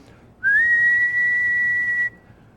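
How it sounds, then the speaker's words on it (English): A pure 2 kilohertz whistle tone rises briefly into a steady held pitch for about a second and a half, then cuts off, clear and loud over faint background hiss. "there's a 1 kilohertz whistle, no, 2 kilohertz,"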